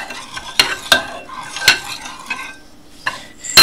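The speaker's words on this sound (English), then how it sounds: "So just make sure that you stir real well, so your sugar is fully melted" A spoon stirs milk, cocoa and sugar in a metal pot, scraping and clinking against the sides in a handful of sharp, irregular knocks with soft swishing between them, close and alone.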